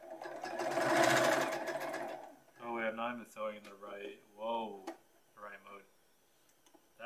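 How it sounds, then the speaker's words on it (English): Sewing machine stitching at home in one quick whirring burst of about two seconds, then it stops and a person talks. "Oh wait, I'm not even sewing in the right mode."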